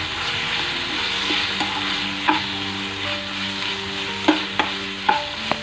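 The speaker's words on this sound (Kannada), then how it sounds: "ಇದನ್ನು ಆ್ಯಡ್ ಮಾಡಿ ನೀಟಾಗಿ ಫ್ರೈ ಮಾಡಬೇಕು" Coconut paste fries with chicken masala in a pan, a steady close sizzle broken by several sharp scrapes and clacks of a stirring spoon, with no talk.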